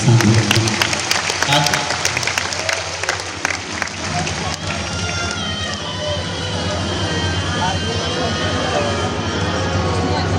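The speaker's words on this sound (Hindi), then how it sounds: "एक बार पूरी समिति के लिए जोरदार ताली बजाकर" A large crowd at an outdoor Shiv Katha religious gathering in Sukarhutu, Ranchi, applauds loudly for the organising committee, the clapping strongest at the start and easing into a busy, reverberant crowd hum.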